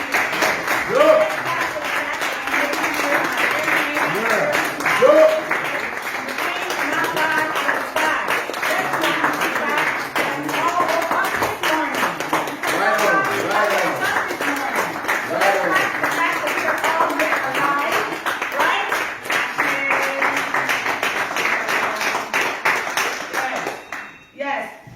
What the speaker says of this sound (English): Let's clap for our ancestors.